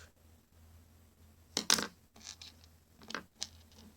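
A small screw from broken scissors drops and clatters briefly on a hard surface, followed by a couple of lighter ticks, otherwise quiet.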